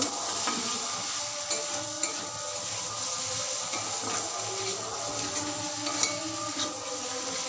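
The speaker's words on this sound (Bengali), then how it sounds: "সেদ্ধ করে রাখা সয়াবিনগুলো দিয়ে মশলার সঙ্গে ভালো করে মিশিয়ে নেব" Boiled soybean chunks stirred into frying masala, a continuous moderate sizzle with occasional spoon scrapes and taps against the pan, no talking.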